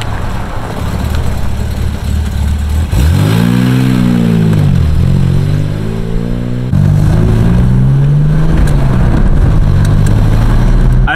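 An Opel Manta's engine revs loudly and repeatedly as the car pulls away on a Sunday drive to fetch bread rolls, the pitch climbing and falling through gear changes, close by with no talk.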